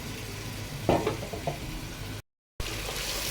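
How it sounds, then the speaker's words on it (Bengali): Marinated meat fries in hot oil in a pan, a steady close sizzle with stirring scrapes and a brief cut to silence partway through. "এখন আমি কিছুক্ষণ এই অবস্থায় ভেজে নিব।"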